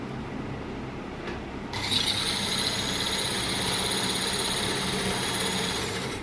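Sewing machine stitching over a trouser zip, a steady close mechanical whir that starts abruptly and runs evenly to the end, with no talk.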